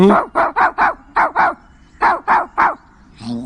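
A person imitates a dog barking with a quick series of about ten loud, sharp woof sounds in uneven groups, close and alone, ending in a faint murmur of voice.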